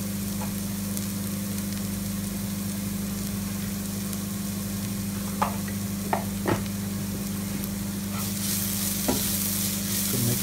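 Prawn masala stirred in a pan, with a steady close sizzle and a few sharp spoon scrapes against the metal; no one speaks.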